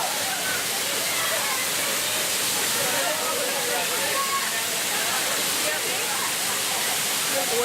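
Smith Falls on the Niobrara River in Nebraska roars in a dense, continuous wash of falling water, loud and close, with no pause or change.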